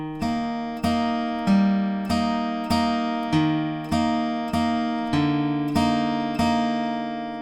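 Acoustic guitar picking the opening section of a song, a bass note followed by paired plucks repeated in an even, gentle rhythm, clear and close with no voices.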